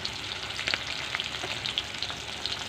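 Rohu fish fries in oil after being turned, a steady close sizzle dotted with small pops and spits.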